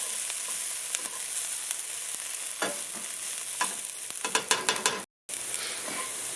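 Food sautéing in a pan for a Mexican lasagna, a steady close sizzle with occasional scrapes and clinks of a utensil, the stirring busier toward the end, with no voices over it.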